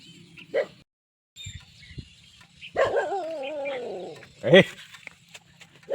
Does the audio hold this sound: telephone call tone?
no